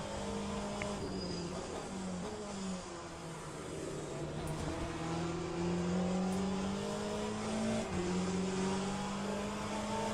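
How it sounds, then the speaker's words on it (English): A flat-six engine in the racing game Le Mans Ultimate rises and falls in pitch as a car revs repeatedly during an online sprint race, fairly quiet, with a steady buzzing background. "flat 6 revving up when David was off track?"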